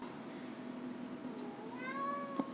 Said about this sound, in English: Listen for him meowing.